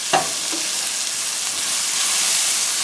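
Chicken with vinegar, garlic and shallots bubbles in a pot, giving a loud, steady sizzling hiss that runs without a break, with a couple of faint knocks at the start.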